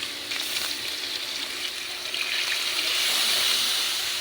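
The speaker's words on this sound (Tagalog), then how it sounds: "Lalagyan natin ng tubig." Water poured into a cooking pot of meat and vegetables, a steady hissing splash that runs unbroken for about four seconds and swells slightly near the end, with no talking.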